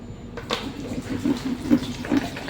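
Five liters of water being poured for homemade tuba make a steady splashing, gurgling stream at close range, continuous for a couple of seconds with small surges.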